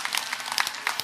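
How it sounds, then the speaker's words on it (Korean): A church congregation at a Sunday worship service breaks into a short burst of applause, a brief scatter of hand claps lasting about a second. "할렐루야 박수로 화답하겠습니다"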